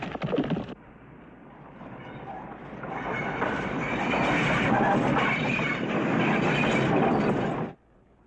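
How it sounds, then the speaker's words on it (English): A train rumbles past close by in a Western movie, wheels clattering rhythmically on the rails in a loud, continuous roar that swells and then abruptly fades. "Train."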